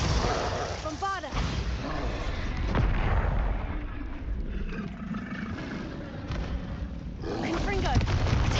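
Spell blasts crackle and boom during Hogwarts Legacy combat: a steady run of loud, broadband bursts and whooshes with game music underneath, while voices shout over the action.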